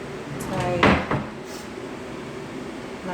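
Wooden cupboard drawers in a move-in house being opened and shut, giving a couple of quick close thuds and slides within a few seconds against quiet room tone.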